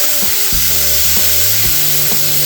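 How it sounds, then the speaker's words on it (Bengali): Onion and a whole tomato frying in a pan, a loud steady sizzle broken by four or five scraping stirs and knocks against the pan, close up. "পেঁয়াজটার মধ্যে আমি টমেটোটাও দিয়ে দেব।"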